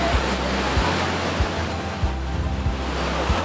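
Niagara Falls roaring, a constant broad rush of falling water heard outdoors, with wind buffeting the microphone and low thumps throughout.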